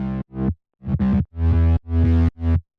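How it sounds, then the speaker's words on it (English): Heavily distorted synth bass in electronic music production, a thick, buzzy, gritty tone played as a choppy rhythmic sequence of short and long notes with sharp stops, loud and alone. "And maybe we can add even more distortion to make it thicker than thick."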